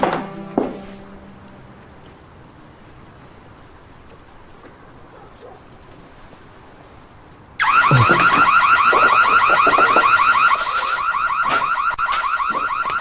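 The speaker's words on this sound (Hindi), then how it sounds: "मॉम, अलार्म क्यों बज रहा है?" A house alarm bursts on at night after a quiet stretch, blaring loud and continuous with a pulsing, siren-like warble that runs to the end.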